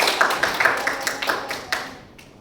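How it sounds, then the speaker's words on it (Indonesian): Clapping from a classroom group during a microteaching lesson on trial balance, a series of distinct hand claps at an uneven rhythm, close and moderately loud, thinning out and fading away by the end. "tepuk tangan untuk Mbak Indi"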